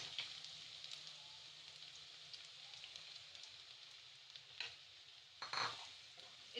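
Finely chopped onions sauté in hot oil, a quiet steady sizzle with occasional stirring scrapes and clatters of a spoon against the pan.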